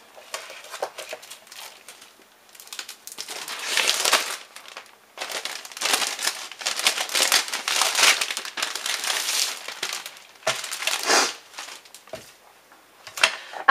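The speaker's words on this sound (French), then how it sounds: "j'ai pris la collection de papier, je vais vous la déballer" The plastic wrapping on a pack of craft paper crinkles and crackles up close in uneven bursts as it is unwrapped, with short quieter gaps between handfuls of rustling.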